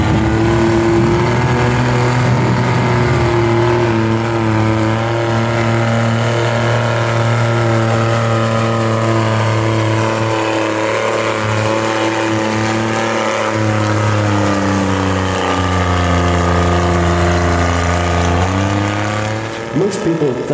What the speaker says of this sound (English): Mud bogging is pretty much a bunch of rednecks getting around a mud puddle and stirring it up with their 4-wheel drives